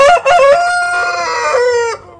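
A backyard rooster gives one loud, close cock-a-doodle-doo crow, rising at the start and then holding a long drawn-out note before cutting off, with no talk.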